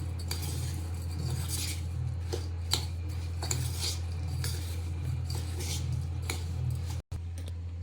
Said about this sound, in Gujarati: આપણા ઇન્સ્ટન્ટ અથાણું છે એટલે બધું તાજું તાજું જ અંદર નાખી અને મિક્સ કરવાનું.